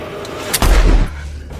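A gunshot in a film's robbery standoff scene bursts out once as a loud, booming crack with a short rumbling tail, after quieter background sound.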